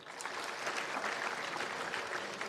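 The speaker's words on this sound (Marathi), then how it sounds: "हा त्यांच्यासाठी टाळ्या होऊ देत." Audience applause at a motivational talk, brisk continuous clapping from a room full of people at a fairly even loudness throughout.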